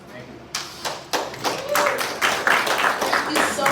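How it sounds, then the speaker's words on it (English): Applause and clapping erupt from a conference audience after a panel discussion at an Afro Future Summit, starting with scattered claps and swelling into steady, sustained applause. "Give them a round of applause"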